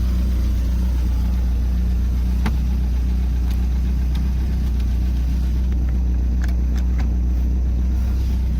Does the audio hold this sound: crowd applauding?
no